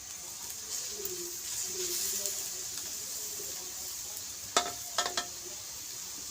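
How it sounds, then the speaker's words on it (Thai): Spicy stir-fried catfish curry with pea eggplants and young green peppercorns crackles loudly in the pan, a continuous close sizzle broken near the end by a few sharp clanks of the stirring utensil. "ใส่มะเขือพวงลงไปก่อนเลยนะคะ ผัดแบบมั่วซั่วเหมือนเดิมนะคะ"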